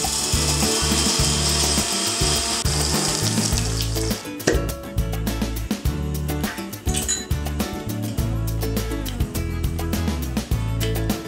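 An electric grinder whirs steadily as it grinds nuts and dry spices for a home-made chicken tikka masala paste, loud and close, with irregular rattling grit running through the constant motor hum and no talking.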